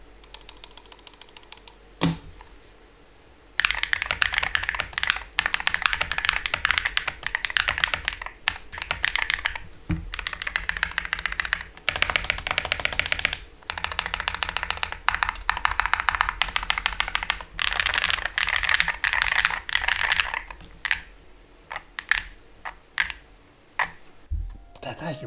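Fast typing on an RGB mechanical keyboard fitted with default Hall Effect switches, a dense run of close keystrokes with a few short pauses, heard without any talking.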